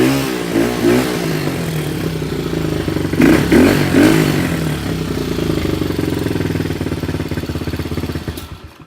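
A cold 150cc Chinese dirt bike engine, not yet warmed up, idles roughly and revs in uneven bursts, loud and close, with clattering mechanical noise before cutting out abruptly at the end.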